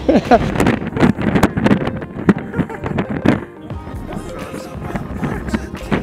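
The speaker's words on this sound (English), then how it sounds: "It's really windy up there." Strong gusting wind buffets the microphone in loud, irregular bursts on a terrace at Victoria Peak, Hong Kong, with muffled voices underneath.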